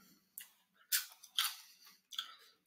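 Close, crisp crunches from chewing a crunchy sriracha-flavored snack, four distinct bites in an uneven rhythm with quiet gaps between.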